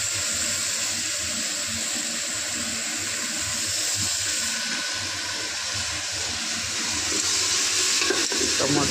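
Tomatoes cooking in a pan with turmeric, stirred steadily over a continuous close sizzle and frying hiss that lasts throughout, with faint scraping and watery bubbling beneath.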